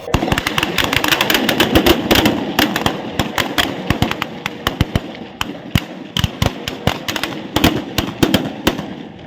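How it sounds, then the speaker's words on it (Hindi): Armed police fire a ceremonial celebratory volley at a Republic Day parade, a long rapid crackle of overlapping gunshots that thins into scattered sharp bangs, loud and continuous, with no talking. "तत्पश्चात सशस्त्र पुलिस बल द्वारा हर्ष फायर किए गए।"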